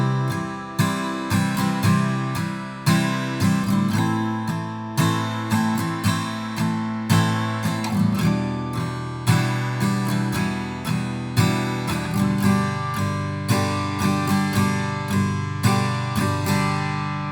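Steady acoustic guitar strumming of the verse chords, changing in a regular rhythmic pattern, full and close, with no voices throughout.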